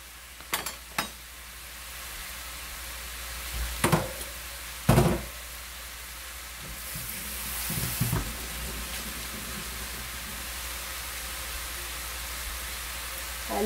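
A Korean side dish sizzles and fries steadily in a pan while being stirred, with a few sharp knocks and scrapes of the utensil against the pan over the constant hiss.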